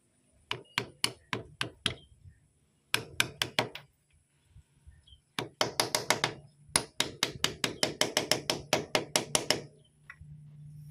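A motorcycle crankcase seal is tapped into place with a 17 mm socket used as a driver. Groups of sharp metallic hammer knocks come in fast rhythmic runs, with short pauses between them, up close.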